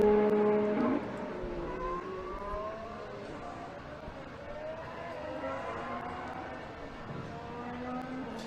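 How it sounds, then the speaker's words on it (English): A Formula 1 car engine during preseason testing at Barcelona, rising and falling whines that sweep upward through gear changes, heard at a distance beneath steady background noise with a louder tonal burst at the start. "Do you want the engine sound louder?"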